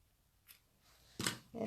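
Scissors trimming card paper for a handmade greeting card, a couple of short close crisp snips after a quiet pause, with a faint rustle before them.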